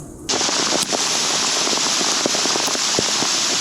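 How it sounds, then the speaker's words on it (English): Hail pelting down outdoors during a storm in south-west Western Australia, a loud, dense, steady clatter of countless icy impacts with sharper individual strikes popping out, no voices. "We're getting hailed on right now."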